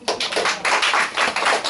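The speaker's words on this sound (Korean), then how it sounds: "박수" A church congregation claps in a steady rhythm during a sermon, producing dense bursts of many hands beating close and loud without any speech.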